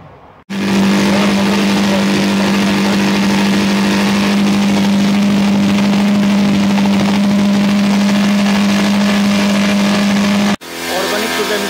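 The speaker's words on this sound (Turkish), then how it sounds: "Motorun karıştırıcısını çalıştırıp daha sonra ilaç atımına geçeceğiz." Motorized crop sprayer running steadily with its mixer engaged, a loud continuous drone with a strong low hum, starting abruptly and cutting off near the end, used for organic foliar feeding in a strawberry field.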